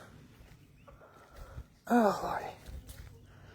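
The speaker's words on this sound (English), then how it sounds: "That's a female goat. Hear that?" A female goat on a farm gives one loud, wavering, vibrato bleat. A person speaks briefly before it, with faint rustling and footsteps around it.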